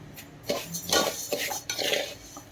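Rice dry-roasting in a pan scrapes and rattles as a metal spoon stirs it, giving several quick, close scratchy strokes in an irregular rhythm with no voice.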